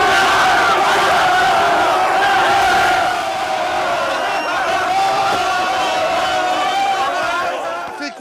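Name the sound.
crowd cheering Genève Servette European hockey title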